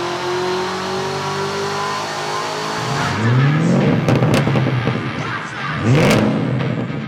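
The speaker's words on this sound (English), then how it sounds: "we've got the car strapped down to their dyno because we want to see what it makes from the factory" A Camaro ZL1 1LE strapped to a dyno, its engine revving up loudly twice in rising, roaring sweeps over a steady idle, near and with no talking.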